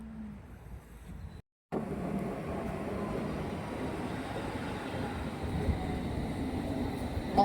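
A train rumbles past in the UK with a steady, moderately quiet roar, after a brief gap near the start; the rolling noise stays even and continuous throughout.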